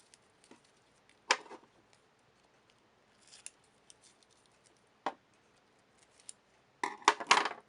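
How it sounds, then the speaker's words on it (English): Scissors trim wrapping paper for a folding cube in a few short, separate bursts of snipping and rustling, close by and fairly quiet, with near silence between the cuts. "There's some more trimming."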